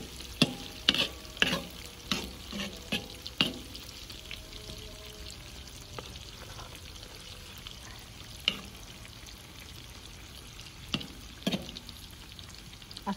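Kuyrdak with liver and kidney sizzles softly in a pan while a utensil stirs and scrapes at intervals, giving irregular knocks and clatters over the low, steady frying hiss.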